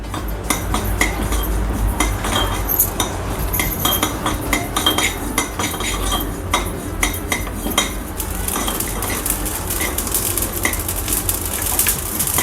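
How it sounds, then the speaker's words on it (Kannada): Mustard seeds roast in a pan for a lemon pickle, with a metal spoon scraping and clinking against it steadily and busy little ticks of popping seeds throughout. The sound is close, continuous and has no talk over it. "ನೆಕ್ಸ್ಟು ಸಾಸಿವೆ ಹುರ್ಕೋತೀನಿ."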